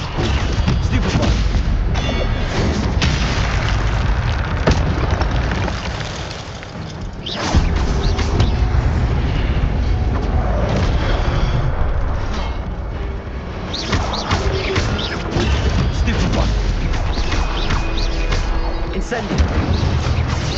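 Stupefy spell impacts in the Hogwarts Legacy video game land as repeated loud booms and crashes inside a dense, continuous wash of combat effects and music, with a brief dip in the middle.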